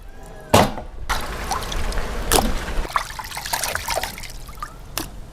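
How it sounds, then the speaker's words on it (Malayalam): Running water pours over cut mutton ribs while they are rinsed in a kitchen, a close, continuous trickle and splash broken by a few sharper clatters of handling. "അപ്പോൾ നന്നായിട്ട് ഒന്നും കൂടെ നമുക്ക് കഴുകി വാരിയെടുക്കാം."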